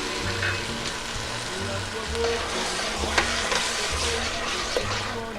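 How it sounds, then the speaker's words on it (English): Tomatoes go into onions in a pan aboard a boat galley, a continuous broad sizzle and hiss that holds steady throughout, with a few faint knocks and a low hum beneath, no speech. "Now to our onions, we're going to add the tomatoes."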